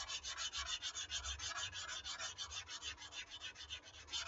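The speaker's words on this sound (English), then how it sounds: "Doesn't take very long to sand a little bit of gaitering out of the foam here." Foam is sanded by hand with quick, regular back-and-forth strokes, making a soft, close, gritty rubbing that repeats rhythmically and fairly quietly throughout.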